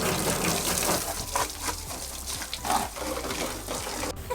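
Water spraying from a garden hose riddled with holes while a truck is washed, a continuous loud hissing gush with splashing that surges and dips, no talking.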